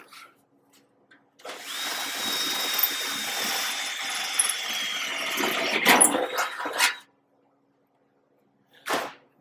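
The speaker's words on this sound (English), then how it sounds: "access the hole from underneath, drill through." A power drill whirs steadily for several seconds, its whine rising near the end before stopping, then one short buzzing burst follows after a pause.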